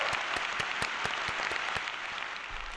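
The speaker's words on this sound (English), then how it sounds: "Let's give a round of applause for that." Audience applause during a studio finance show: dense, steady clapping from a crowd, fairly loud throughout, with a regular beat of sharper claps on top and no talking.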